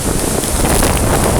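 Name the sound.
strong wind blowing at Lochranza, Isle of Arran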